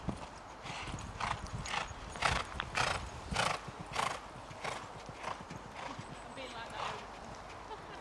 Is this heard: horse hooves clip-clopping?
yes